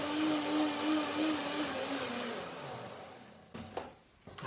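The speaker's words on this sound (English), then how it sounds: "one more blender dance to make the nice texture" A blender whirs steadily at a constant pitch, then cuts off, followed by a few clattering knocks.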